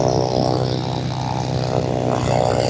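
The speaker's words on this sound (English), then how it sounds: "Parade of airplanes." A propeller airplane drones past at close range during the parade of airplanes at Sun 'n Fun, a steady, loud engine hum that holds for the whole stretch with no talking.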